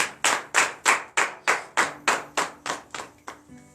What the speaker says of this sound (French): donnez de vives acclamations à cette parole